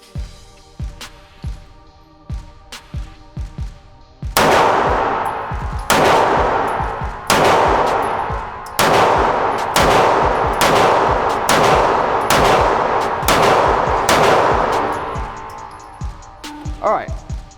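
Ten rounds fired from a Sig P365 pistol with a swapped grip module, loud sharp reports in a steady, evenly spaced string, preceded by a few quieter clicks and handling noises.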